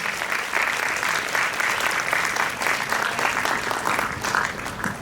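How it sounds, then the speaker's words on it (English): An audience at an academic conference session on the SDGs gives a sustained round of applause, dense and even throughout with slight swells and no clear break. "Let's give them a big round of applause."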